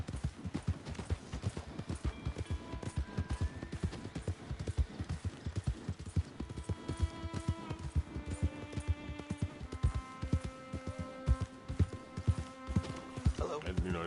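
Hooves clip-clop rapidly as a horse gallops in the video game Red Dead Redemption, a dense, steady rhythmic pounding running throughout, with music swelling in underneath and a voice talking over it.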